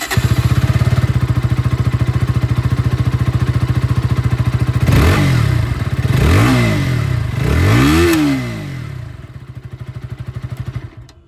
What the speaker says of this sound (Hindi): ये था यहाँ पर RC 160 के साउंड।